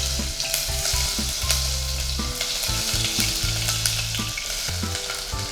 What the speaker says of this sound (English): Now in the same oil we are going to add the remaining onion.